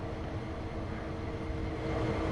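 A steady low rumble with faint tonal hum from a train rolling past at moderate distance in the game Train Sim 2, continuous and even throughout.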